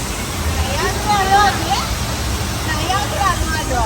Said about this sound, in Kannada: ನೈಜೀರಿಯಾ ಫಾಲ್ಸ್ ಅಂತ ಅದು